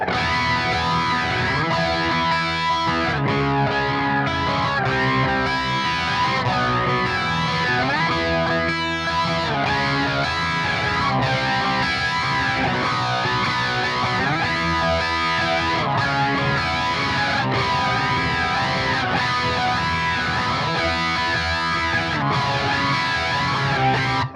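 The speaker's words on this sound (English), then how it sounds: "I've got the flanger and the phase 90 on." Distorted electric guitar riffing through a flanger and a Phase 90 phaser on a Quad Cortex, with a sweeping swirl, loud and continuous throughout, with no voices.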